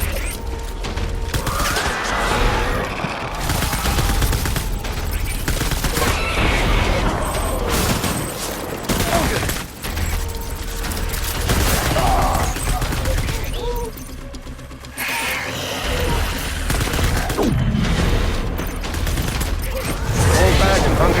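Sustained rapid gunfire rattles through a battle in the video game Death Stranding, with bursts, booms and mechanical clanks filling the mix and voices heard intermittently.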